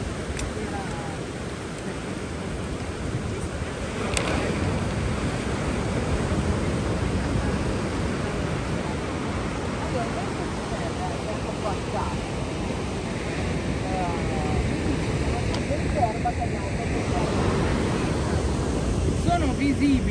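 Atlantic Ocean waves and surf breaking below a sea cliff near Vik, a steady, rushing roar mixed with wind buffeting the microphone, with a person talking over it.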